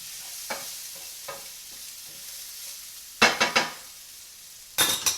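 Garlic sizzles softly in a nonstick pan while being prepared for shrimp and grits, with a few quiet stirring taps followed by two louder bursts of scraping and clattering.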